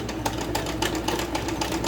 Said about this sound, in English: the great thing about a sewing machine is you can go as slow or as fast as you need to